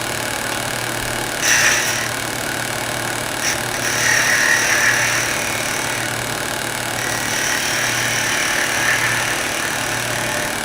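A skew chisel cuts spinning wood on a lathe, with a steady motor hum under a continuous shaving hiss and a few sharper scraping flares from the cutting edge.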